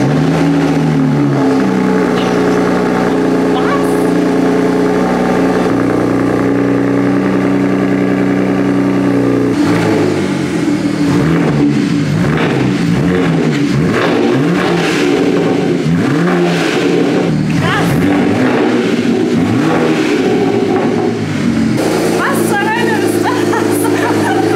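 Widebody BMW M3 with a BMW Performance exhaust revs hard, loud and close, with repeated rising and falling blips over a steady idle, and a voice speaks briefly near the end.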